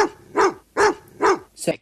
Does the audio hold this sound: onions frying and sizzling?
no